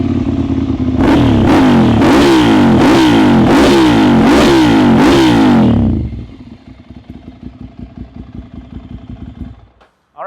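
A 2012 Ducati Monster 795 with a Termignoni exhaust revs hard in five or six sharp, loud blips close by, then drops to a lumpy, throbbing idle before cutting off.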